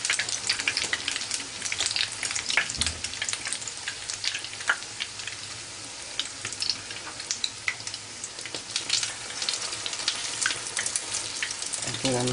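Torrijas fry in hot oil in a pan over medium heat, giving a steady crackling sizzle broken by sharp pops and spits, with occasional soft clatter from turning them.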